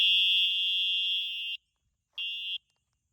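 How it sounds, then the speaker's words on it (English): An ebike rear light alarm triggered by a key fob gives a piercing, high-pitched electronic beep, one long blast then a shorter one after a pause, loud and close with no talking. "it's a little obnoxious, but it's also an alarm"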